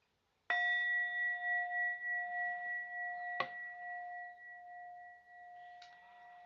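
A meditation bell is struck once, ringing with a clear sustained tone that decays slowly over several seconds; a softer tap sounds partway through, and a faint third touch comes near the end, with no talking.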